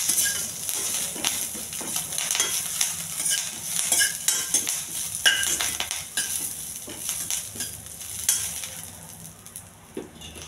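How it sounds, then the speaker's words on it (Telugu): Cumin, green chillies and curry leaves fry in hot oil with a bright crackling sizzle, while a metal spoon scrapes and clinks against the pan in irregular stirring strokes. "కొద్దిగా జీలకర్ర అండి, పచ్చిమిర్చి, కరివేపాకు కొంచెం దోరగా వేయించాలి."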